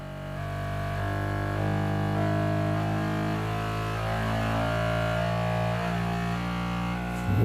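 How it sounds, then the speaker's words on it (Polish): A Bambu Lab P1S 3D printer running vibration calibration emits a steady electronic buzzing hum that shifts pitch in steps and sweeps, vibrating continuously with a brief rattle at the end. "Sprawdza najróżniejsze poziomy wibracji, jakie może wpaść, żeby później niwelować podczas drukowania."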